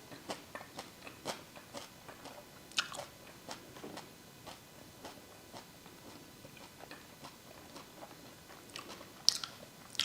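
Close, steady chewing of a thick millet adai made from pearl millet, ragi and sorghum with chana dal and urad dal: repeated soft crunchy bites and mouth sounds in an even rhythm, with a couple of sharper crunches and no talking.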